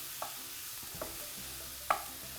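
Something sautés quietly in a pan under a low, even hiss, punctuated by three soft stirring knocks, the last one louder, with no talk.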